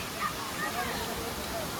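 A waterfall on the trek to Kedarnath, in the mountains, gives off a faint, steady broadband rush of water that holds unchanged from start to finish.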